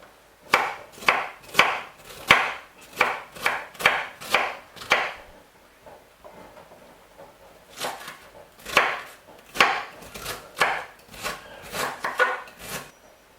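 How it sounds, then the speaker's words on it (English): A knife chops vegetables on a board for a Cameroon-style salad, sounding as bursts of rapid, crisp close chops, each a sharp woody knock. A short pause falls mid-way before another run of chopping. "Chop down the rest."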